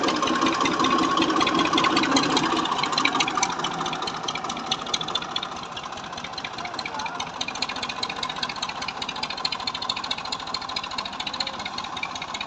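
A tractor engine runs steadily nearby with a loud, rhythmic mechanical chugging that settles into an even idle.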